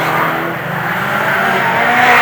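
Banger racing cars roar around the Arlington Raceway oval in a loud, continuous drone of engines and tyre noise, with no break across the whole stretch.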